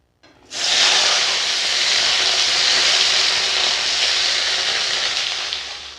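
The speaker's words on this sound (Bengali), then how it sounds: "ঢেঁড়সগুলো এবারে আমি ভেজে নেবো" Whole soft okra, about 500 grams, frying in hot oil in a wok, bursting into a loud, steady, close hissing sizzle that holds evenly and fades slightly near the end.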